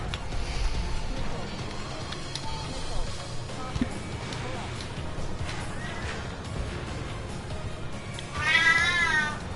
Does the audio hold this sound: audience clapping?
no